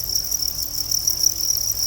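Crickets at a cricket egg farm keep up a constant shrill chirping chorus, close and even in level, alone without any voices.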